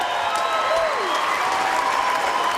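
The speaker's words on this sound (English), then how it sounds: "let's have a round of applause for one of the most exciting first round fights" Crowd applause at a BKFC bare-knuckle fight night in Honolulu, a dense, continuous wash of clapping and cheering from a large audience, loud and sustained, with an announcer's voice running over it.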